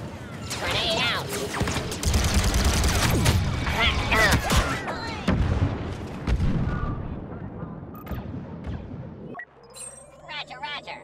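Grenade blast and gunfire in the Star Wars Battlefront 2 beta, a loud dense wash of explosions and rapid shots with game voices over it, ending in a sudden cut to quieter mechanical tones.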